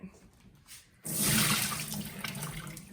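Water pours out in a sudden rush as dried chickpeas soaked overnight are drained, a steady splashing gush close by that follows a quieter moment and continues to the end.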